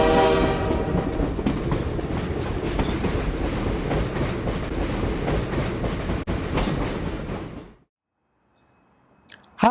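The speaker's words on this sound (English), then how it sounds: "this venerable locomotive has been returned to operating condition here at the Colorado Railroad Museum" Rio Grande Southern steam locomotive No. 20, restored to operating condition at the Colorado Railroad Museum, rumbles along steadily with rail clatter for about eight seconds, then cuts to near silence with a brief sound at the end.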